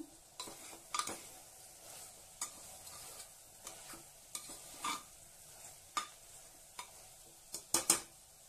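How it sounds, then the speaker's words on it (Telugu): A spoon scrapes and knocks against a metal cooker in irregular strokes, stirring thick curry over a soft sizzle, with sharper clanks near the end. "ఒకసారి తీసి మంచిగా కలుపుకుందాం."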